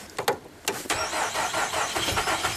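A cold car engine cranking in sub-zero temperatures with thick fluids, heard as several sharp starter bursts early on, then a steady rough running roar, close and fairly loud.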